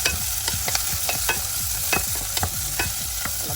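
Garlic and onions sauté in a pan for pork adobo. A constant close sizzle runs under sharp, regular scraping strokes of a spatula stirring the pan about twice a second, and no one speaks.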